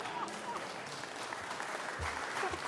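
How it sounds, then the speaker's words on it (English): Applause from lawmakers in a state Senate chamber, a steady, moderately loud wash of clapping that fills the whole stretch with a faint voice or two underneath. "Are y'all gonna clap for me?"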